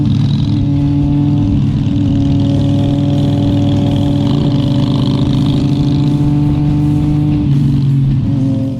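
A 2006 Harley-Davidson Sportster motorcycle engine idles steadily up close, a loud, even low rumble with a faint rise in revs midway and no voices.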